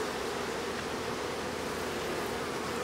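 Honeybees hum around a beehive in a dense, steady drone that stays constant throughout, with no talking.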